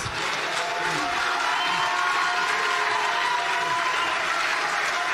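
A large audience at a debate-style event applauds and cheers steadily, a dense continuous wash of clapping and shouts that fills the whole moment without pause.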